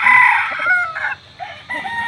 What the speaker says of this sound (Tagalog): pakagandang manok